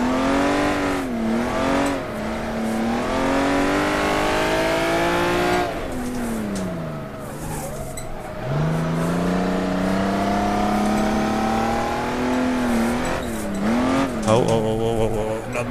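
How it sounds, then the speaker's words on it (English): Honda NSX drifting around a kart circuit, its engine revving and wailing through repeated rises and drops in pitch with brief lifts off the throttle, loud and close from inside the car, with a voice talking over it. "I must drift on a straight at least once."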